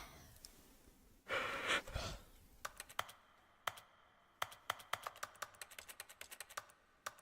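Computer keyboard keys clicking in a steady run of sharp, close taps, after a brief burst of breathing or a sigh near the start.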